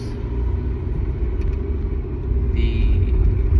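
A car rumbles along the road from inside the cabin, a steady low engine drone that swells slightly near the end.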